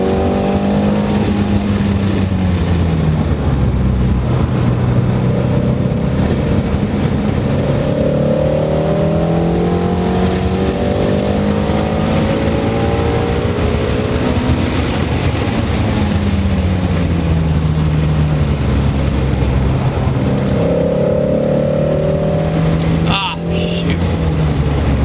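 Ford Shelby GT350 Mustang driving hard on a race track, a loud, continuous engine roar heard from inside the car that rises and falls with gear changes and revs, with a brief thump near the end.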